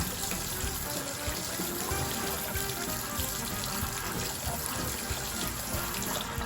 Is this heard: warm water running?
yes